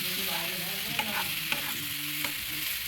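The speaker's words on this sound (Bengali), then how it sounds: "দেখো ভালো করে আমি নেড়ে নিচ্ছি।" Pressure-cooked winter vegetables being stirred in a hot pan, with a steady sizzle and soft scraping strokes and a few sharper spoon clicks against the pan.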